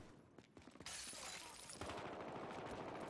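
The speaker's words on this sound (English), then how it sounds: "I'm getting shot from fucking everywhere by a paintball gun" Paintball gun shots in Battlefield Hardline during a heist match, a dense crackle of rapid shots and impacts, faint at first, then building into a steady clattering barrage.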